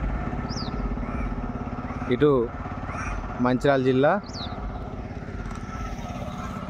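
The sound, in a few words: motorcycles passing on the road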